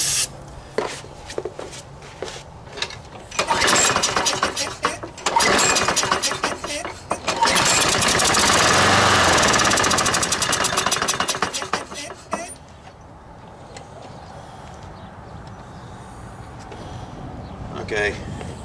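A free lawnmower engine fires up and runs rough, with a loud sustained uneven roar and sputtering that fades to a lower rumble near the end.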